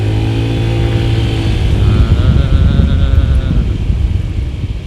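Honda ADV scooter engine revved up from about 4000 RPM, a loud, close, rising drone with some wind buffeting.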